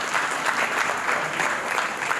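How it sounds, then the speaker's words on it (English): Steady, dense audience applause fills the room at an awards event, many hands clapping continuously at moderate distance with no pauses. "I request all of you to give a big round of applause to Shahbaz"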